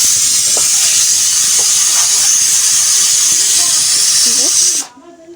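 A pressure cooker is vented, letting out a loud continuous steam hiss close by that cuts off abruptly near the end, leaving quiet room noise.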